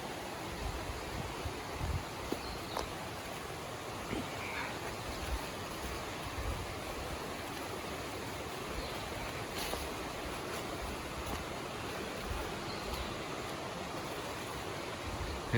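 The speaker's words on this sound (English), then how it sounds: "There's a little creek over on the right" A small creek flowing beside a hiking trail in the Noland Creek area, a steady soft rush of moving water, fairly faint and continuous with no talk.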